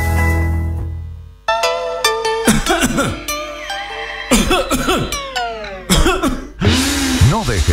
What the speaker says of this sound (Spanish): No dejes que la tos te juegue una mala pasada.